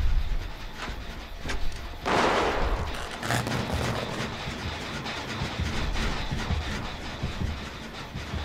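Firecrackers going off in the Dead by Daylight horror game: a steady clattering stream of small pops and crackles over a busy ambient bed, with a louder burst of bangs partway through.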